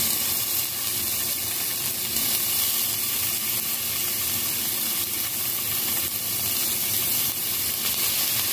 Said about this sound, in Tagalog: Una ay igigisa muna natin yung karne.